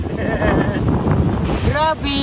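Heavy wind buffets the microphone in rough, rumbling gusts while a person talks and a higher squeaky tone chirps near the end.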